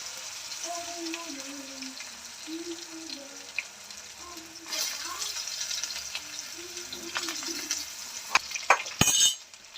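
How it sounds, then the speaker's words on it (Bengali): Raw banana and potato frying in a pan of oil with bay leaf, dried chilli and panch phoron, giving a steady soft sizzle with clinks and stirring knocks near the end. "এবার কাঁচকলাটা ভেজে নেব"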